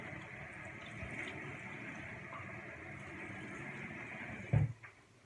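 Water running and splashing while face wash is rinsed off at a bathroom sink, a low steady wash of sound ending in a louder splash near the end.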